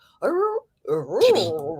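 A dog whimpers and yowls close by in two vocal bursts, the second rising and falling in a talking-like whine with no barking.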